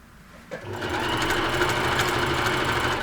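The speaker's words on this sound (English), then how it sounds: "And I'm going to sew all the way down that seam" A sewing machine stitches down a seam in slippery, stretchy knit fabric for a dress. It starts up after a brief pause, then runs as a fast, steady, close mechanical whir, with no voices.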